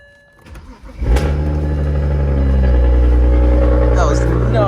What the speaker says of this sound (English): let's go ahead and hit you guys with a nice quick cold start.